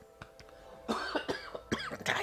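A game character in 3030 Deathwar Redux coughs in a few harsh bursts, with brief throat-clearing sounds, over a quiet background.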